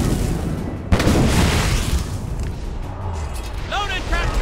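Ship cannons fire in a naval battle in Assassin's Creed Rogue. A sharp, heavy boom opens a loud roar of rumbling explosions and battle noise, and a shouted voice rises near the end.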